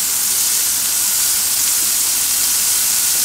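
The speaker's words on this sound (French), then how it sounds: "je ajoute les escargots" Snails hitting a hot pan set off a steady, loud sizzle with a steamy hiss that holds evenly throughout, with no voices.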